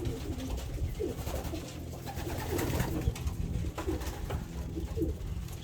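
Pigeons coo in a breeding loft, their soft, repeated throaty calls close and steady over a low background rumble, no talking.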